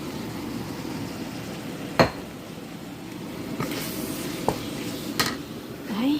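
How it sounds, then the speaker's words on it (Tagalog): Tofu dropped into a pan of sautéed minced pork, shrimp, onion and garlic, giving a steady soft sizzle with a few sharp clinks of a utensil against the pan and a voice talking briefly. "Yan, lalagay na natin yung tofu."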